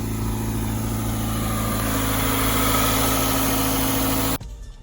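Toyota 86 from 2018, wrecked and without radiators, its engine idling loud and steady with a constant vibrating drone until it is switched off near the end, leaving only faint background.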